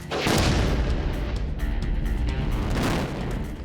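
Car blown apart by a large explosion on a test range, a heavy deep boom opening into a long rumbling roar with a second burst near the end, loud and close.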